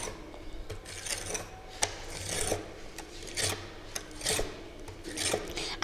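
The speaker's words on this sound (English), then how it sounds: "You have to rub this 20 to 30 times." A magnet rubbed repeatedly along a metal bar in one direction, lifted and drawn again, giving a series of close, moderately quiet rasping strokes at an uneven rhythm with no talking.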